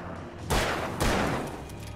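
Pistol shots in the video game Alan Wake: two loud, close reports half a second apart, each trailing into a long, washy decay over a continuous background.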